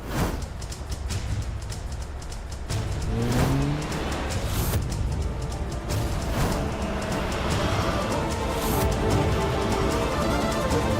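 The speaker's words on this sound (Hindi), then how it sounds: "डॉक्टर पिल्ले की गाड़ी" A car drives past with engine drone and road rumble, swelling and shifting as it moves, with a tire-like whine at times and no talk over it.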